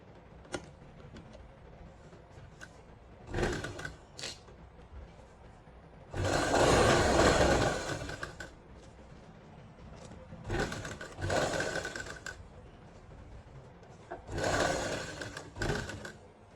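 A sewing machine runs a long basting stitch along a buckram-backed neckline, whirring in several close bursts, short ones and one longer run, with brief pauses and light handling between.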